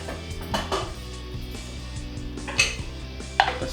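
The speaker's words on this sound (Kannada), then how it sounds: "ಫಸ್ಟು ಕುಕ್ಕರ್ ತೊಗೊಂಡಿದ್ದೀನಿ." A metal pressure cooker being picked up in a home kitchen while preparing rice for puliogre, with light clinks and a couple of sharp metallic knocks over faint background music.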